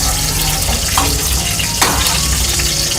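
Green chillies frying in hot oil, a loud, dense, continuous sizzle with occasional stirring clinks, close and steady throughout.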